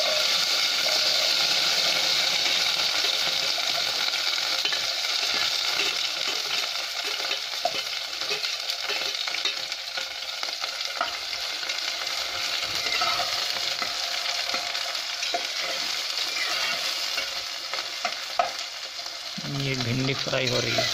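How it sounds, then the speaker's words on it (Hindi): Okra fries in hot oil in a pot with a steady, close hiss and crackle, stirred occasionally, and a voice speaks near the end. "ये भिंडी फ्राई हो रही है।"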